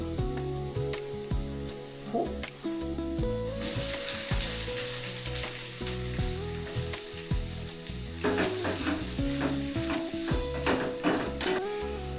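Garlic and onions sizzle as they fry in a pan, stirred with repeated scrapes and knocks. The hiss swells brighter partway through, and spatters crackle near the end.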